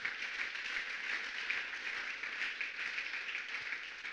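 A church congregation applauding in a steady, continuous patter of many hands, moderately loud and sustained throughout.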